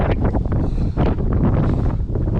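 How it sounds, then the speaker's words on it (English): Strong wind roars and buffets the microphone continuously, a loud, rumbling gusty rush with no voices. "It's very windy."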